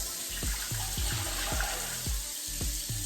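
Water pours steadily into a pot of rice, a continuous splashing rush with a few low hollow knocks from the pot, close and alone.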